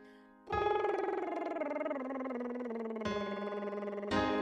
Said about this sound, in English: lip trills. Let's do a descending major scale.